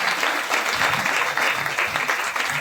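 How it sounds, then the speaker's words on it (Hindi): Temple congregation at a Kartik festival gathering claps in welcome, a thick, continuous burst of applause close and loud throughout. "ताली बजाकर आप स्वागत कीजिए"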